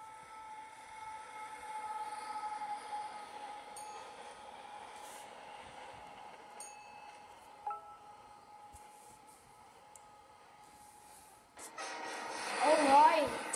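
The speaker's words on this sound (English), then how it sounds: "So this is the Amrail Amrail California locomotive." An Amrail California locomotive in the Roblox game Rails Unlimited gives a steady, moderately loud electric hum and rumble, ending in a brief louder burst of game sound.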